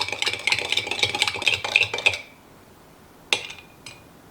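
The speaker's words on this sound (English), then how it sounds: "You can shake that or give it a good stir now." A spoon stirs an apple juice dressing in a glass container, rapid close clinks for about two seconds, then silence broken by two lone taps.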